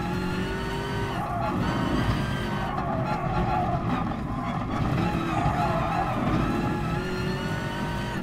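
A BMW M6 race car laps the Nürburgring in Gran Turismo Sport, its engine droning loudly and steadily with tire squeal mixed in, and no talking.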